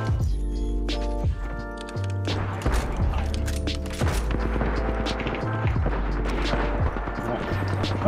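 Apex Legends gunfire, with bursts of shots and mechanical weapon sounds mixed among game music tones and effects, loud and close, with a player talking over it.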